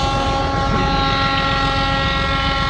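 A passing train gives a dense, steady rumble and rattle with a tonal hum riding on top, loud and close throughout with no talking.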